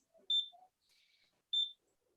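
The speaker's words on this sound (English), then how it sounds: "kind of like the chirping of a bird, but it's definitely not a bird. because it means the battery supply is low on your smoke alarm." A smoke alarm gives two short, high electronic chirps about a second apart, signalling a low battery, clear and isolated against near silence.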